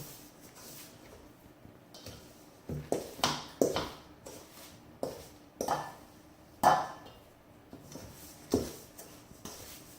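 Cookie batter mixed by hand in a bowl, with irregular clinks and scrapes of a utensil against the bowl at a moderate, uneven pace, close and fairly quiet, no voices.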